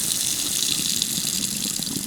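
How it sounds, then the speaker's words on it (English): Water drains from the supply pipes beneath a kitchen sink with the water main shut off, a steady loud rushing gush that carries on unbroken, with no voices. "I am draining the sink water supply pipes."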